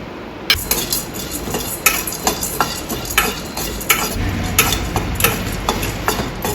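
Roasted gram (pottukadalai) is stirred and scraped around a hot pan with a utensil. The strokes are crisp and regular, roughly one every half second, under a low sizzling hiss with no talking.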